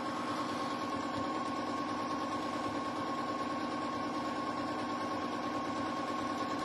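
A Janome M7 sewing machine running at speed for free-motion quilting, a steady, even mechanical hum with a fast stitching whir that holds unbroken from start to finish.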